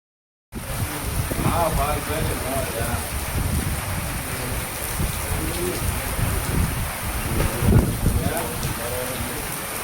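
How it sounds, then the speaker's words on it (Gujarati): Steady heavy rain pours down continuously over villages of Gadhada taluka, dense and close, with faint voices murmuring beneath the downpour. "ગામે ધોધમાર વરસાદ તો કેટલાક ગામોમાં ધીમી ધારે વરસાદ"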